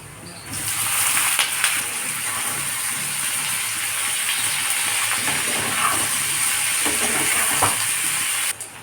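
Raw green bananas, rubbed with salt and turmeric, drop into a pan of browned onions and sizzle loudly and continuously, with stirring scrapes over the hiss. The sizzle starts suddenly and cuts off just before the end.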